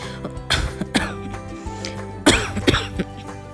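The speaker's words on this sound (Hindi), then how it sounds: "मेरी खांसी ठीक नहीं हुई है" Several harsh coughs and throat-clearing bursts come in irregular clusters, close and fairly loud, with short pauses between them.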